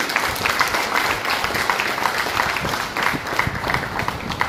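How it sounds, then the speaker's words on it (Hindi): An audience at an organisational gathering applauds in a steady wash of many hands clapping, fairly loud and continuous throughout, with no talk over it. "मैं सभी दोस्तों से चाहूंगा कि एक दूसरे के सम्मान में जोरदार तालियां बजाएं।"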